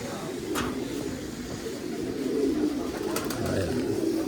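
A flock of many pigeons coo in a low, overlapping murmur at a pigeon coop, steady and close throughout, with faint background noise and no clear speech.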